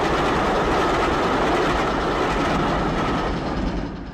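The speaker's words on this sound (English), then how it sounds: "Superman holds the bridge rigid until the train passes over." A train rumbles steadily over a bridge, loud and close at first with a rhythmic clatter of wheels, then slowly fades toward the end.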